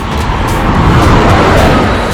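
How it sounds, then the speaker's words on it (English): A bus goes by on a bridge in central London at night, a short, close, broad engine and tyre rumble that rises and eases over a couple of seconds, with no voices. "The bus is going by."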